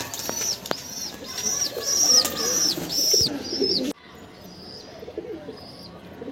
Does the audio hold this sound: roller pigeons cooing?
yes